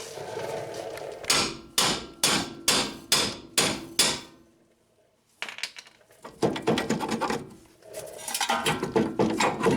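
Hammer blows on a corroded front strut of a 2007 Honda Accord, struck to free it: about six loud, evenly spaced metallic whacks, a brief pause, then a quicker, irregular flurry of hits close by, with no talking.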